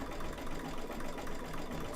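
A sewing machine stitches satin stitches on a bookmark, giving a continuous dense buzzing whir, close and loud, that fills the short moment without pause.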